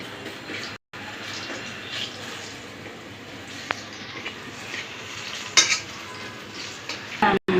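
Banana and flour cakes frying in a pan, a steady soft sizzle with occasional stirring and utensil clinks, and a brief break in the sound near the start.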